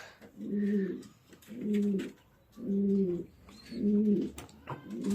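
Pigeons kept for breeding coo inside a loft, five rounded, rhythmic calls coming at steady intervals close by, with quiet rustling in the gaps between them.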